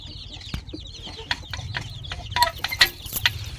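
Chickens at feeding time, including young birds in a nursery pen, cluck and squawk in short irregular bursts close by, with a few sharper calls rising over the flock and no talking.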